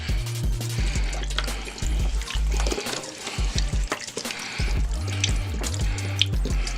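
Beef broth poured into a Power Pressure Cooker XL for oxtail soup; a close, steady liquid pouring and splashing sound with some sloshing, loud and continuous, without talk.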